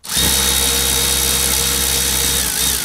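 A power drill or driver runs steadily for a few seconds, tightening a thread-locked part on a gun build. It gives a close, loud, continuous motor whine with a slight dip near the end and no voices.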